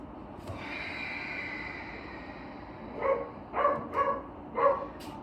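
Four short barks ring out in a quick irregular burst, moderately distant, after a stretch of quiet background hum and a faint whine.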